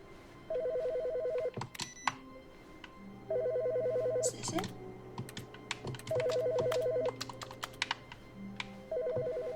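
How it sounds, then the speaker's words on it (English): A telephone rings in the video game The Stanley Parable, in repeated bursts, each a steady electronic trill, with pauses between them filled by a speaking voice and scattered clicks. "There's a phone ringing."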